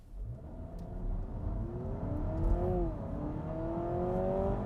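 A 2025 Honda Civic Hybrid accelerating, heard from inside as a smooth rising engine and motor drone that climbs in pitch, dips briefly, then climbs again, steady and moderately loud with no talk.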